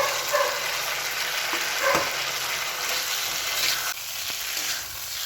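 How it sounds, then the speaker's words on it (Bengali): Fried potatoes and cauliflower are stirred into oily spice masala, making a steady broad sizzle with soft scraping movements throughout, near and moderately loud, with no one speaking. "এবার আমি ভেজে রাখা আলু আর কপিগুলো দিয়ে দেবো"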